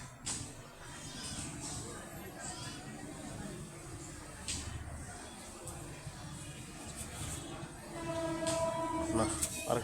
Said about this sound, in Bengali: আরেকটা ট্রেনে এসে গেছে